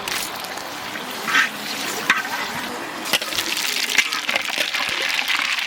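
Whole dried red chillies dropped into hot oil left from frying katla fish, sizzling and crackling steadily with sharp spits and pops, close and fairly loud throughout.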